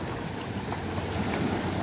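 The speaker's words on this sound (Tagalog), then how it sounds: "Grabe ang hampas ng dagat." Steady roar of rough sea surf with gusting wind buffeting the microphone, continuous and fairly loud with no voices.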